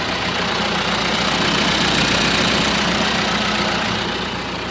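A John Deere 5115M farm tractor engine idling nearby, a steady, loud, broadband rumble that holds even throughout with no talk.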